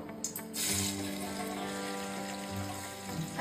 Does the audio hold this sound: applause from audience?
no